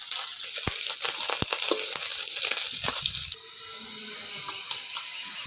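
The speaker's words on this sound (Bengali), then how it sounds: "এই যে একবারে মাছ কড়া ভাজা দিচ্ছি, তুলে নেবো এবার ভাজা মাছ।" Fish fries crisp in hot oil in a village kitchen. A loud, close sizzle carries sharp clicks and knocks, then drops abruptly to a quieter, steady hiss.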